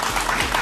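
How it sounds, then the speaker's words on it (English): Applause from a television studio audience during a live political talk show, a dense steady wash of clapping filling the short moment at even loudness with no voices over it. "That must be the applause for the whole part."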